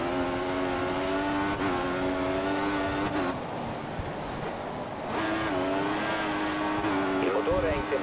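A Formula 1 car engine in the F1 2014 racing game at Bahrain screams at high pitch, rising through gears with brief dips at shifts, loud and continuous under a voice.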